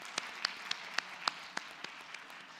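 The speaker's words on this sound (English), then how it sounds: "Can we have a big round of applause for these dignitaries," Sparse, scattered applause for dignitaries at an accountants' conference in India, a few distinct hand claps standing out over a faint hall background and fading toward the end.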